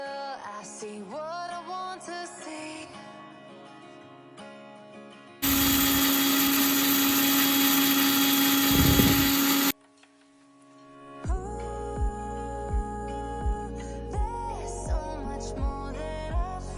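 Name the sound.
mixer grinder grinding roasted spices for idli podi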